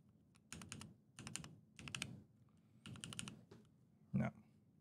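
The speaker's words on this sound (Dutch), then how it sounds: "ik ben benieuwd of jullie een beetje een goed beeld kunnen krijgen van het geluid van de keycaps" Bursts of clacky typing on a Keychron Q3 Pro mechanical keyboard, several quick runs of keystrokes separated by short pauses, close and clear, ending with a heavier thud.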